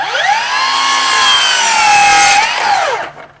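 A Milwaukee M18 cordless miter saw with a slightly dull blade slices through wood, a loud, close, whining cut lasting about three seconds before the motor spins down.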